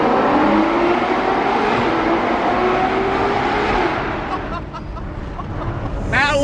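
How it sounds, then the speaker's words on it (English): A Porsche 918 Spyder's engine roars loudly and steadily, echoing through a tunnel, then briefly dips before picking back up near the end. "918 Spider in the tunnel."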